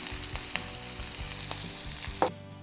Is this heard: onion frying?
yes